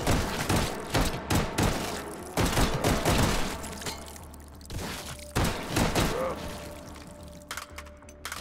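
Pistol gunfire in the VR shooter Hot Dogs, Horseshoes & Hand Grenades, several loud sharp shots in irregular bursts with thuds and rattles between them.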